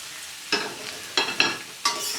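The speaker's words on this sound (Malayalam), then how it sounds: "സവാള ചേർത്തതിന് ശേഷം നന്നായിട്ട് വഴറ്റി കൊടുക്കണം." Onions sautéing with ginger, green chili and garlic for Kuttanadan duck roast: soft frying sizzle punctuated by three distinct scraping stir strokes of a spatula against the pan, close and moderately loud.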